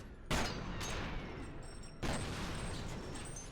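Two heavy shotgun blasts from the F.E.A.R. video game, about a second and three-quarters apart, each a sharp broadband crack with a rumbling tail, loud and close over a noisy game backdrop.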